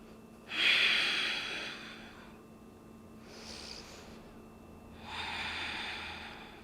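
Deep audible breaths during a slow yoga side-body stretch: three long airy inhales and exhales close to the mic, spaced a second or two apart, soft and unhurried with no speech.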